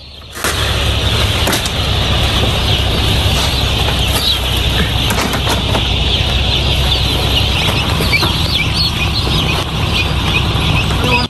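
Dense, continuous high-pitched peeping of many newly arrived chicks, about 28,500, fills a poultry shed, loud and steady with no talking.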